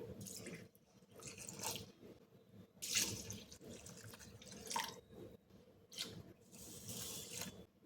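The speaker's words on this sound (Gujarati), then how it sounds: "હવે આપણે એમાં પાણી નાખી દઈશું" Water poured from a tap or vessel onto washed dal, rice and poha for idli batter, heard as close, quiet splashing and dripping in several uneven bursts with small clinks of the container between them.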